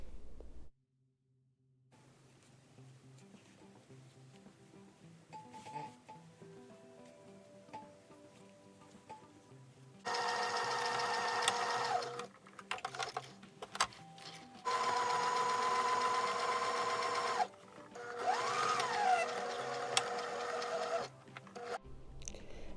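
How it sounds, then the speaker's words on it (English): A sewing machine runs in several long bursts as it hems a double-folded t-shirt edge, a steady close whirring stitch rhythm that stops and restarts between quieter handling sounds. "I'm just double hemming or double folding, and then I'm going to hem right along"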